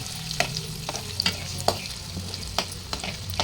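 Paneer pieces fry in hot oil with a soft, constant sizzle. Several sharp scraping and stirring clicks from a spatula recur irregularly, close and fairly quiet.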